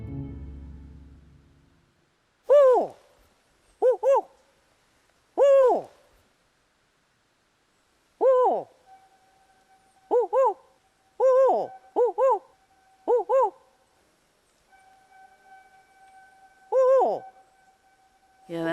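Northern spotted owl hooting in a quiet forest, a series of clear, separate hoots spaced a second or more apart, some in quick pairs and triplets, with a faint steady tone under the later calls.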